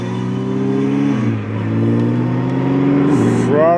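Ariel Atom accelerating along the Curborough sprint course, a loud, steady engine roar with rising pitch that dips briefly and then climbs again, heard close and continuous throughout.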